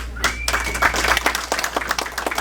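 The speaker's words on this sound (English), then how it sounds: "Jersey Devils, give yourselves a round of applause." A small group at a knife-making gathering gives a brisk round of clapping, individual hand claps distinct and uneven over a low steady hum, with a brief tonal whistle near the start.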